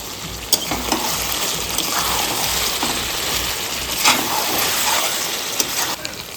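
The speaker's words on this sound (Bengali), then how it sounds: "খাসির মাংস আমাদের প্রায় কষানো শেষ।" Pieces of mutton with fat sizzle steadily in oil in a pan while being sautéed for a dark Bengali kosha curry. The frying hiss is continuous and close, with a few light clicks of stirring.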